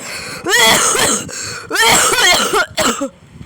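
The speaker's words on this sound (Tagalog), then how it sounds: "sample ng ubo ko para magkaubo ka rin" A person coughs in a few loud, harsh bursts, close up and raspy, with short pauses between the fits.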